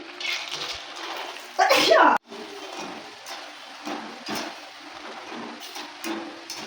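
Raw peanuts drop into hot white oil in a home kitchen, setting off a loud, sharp sizzling burst of about half a second. A voice talks before and after it, over quieter background clatter.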